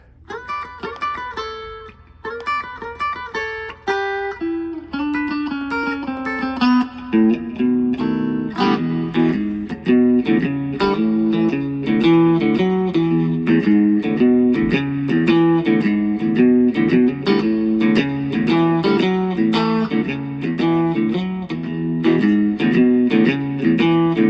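A full blues recording: electric guitar licks open, then a driving band groove with steady shuffling rhythm and loud, prominent guitar throughout.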